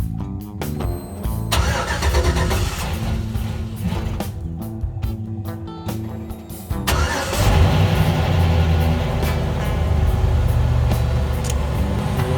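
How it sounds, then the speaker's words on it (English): A GMC Sierra pickup engine, just back from a fuel pump repair with depressurized lines, cranks and catches, then settles into a steady, loud running rumble with no talk. "I'm gonna leave you guys back here while I go start the truck."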